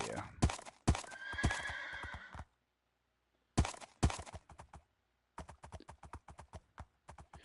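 A Minecraft horse whinnies loudly at the start, followed by quick rhythmic hoof clip-clops that pause, then resume as a steady trot.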